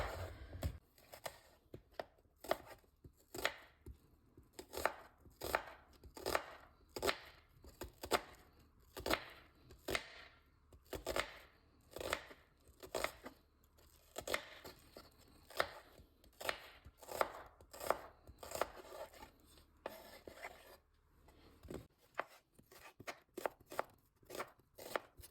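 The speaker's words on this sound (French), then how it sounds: "je vais venir couper mes oignons" Onions are chopped with a knife on a board in a long run of sharp, regular knocks, roughly one or two per second, close by and without talk.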